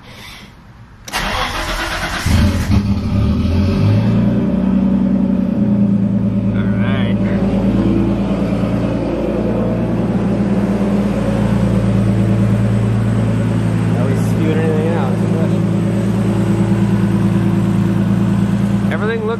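A Nissan R32 GTS-T with an RB20 engine and RB25 turbo cranks after a short whir and catches, then settles into a steady, loud idle close by, with a few voices talking over it.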